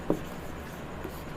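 Pen writing a math solution by hand on paper, a faint soft scratch with a brief stroke at the start and a lighter one later, quiet and close.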